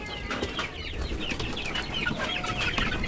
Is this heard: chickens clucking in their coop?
yes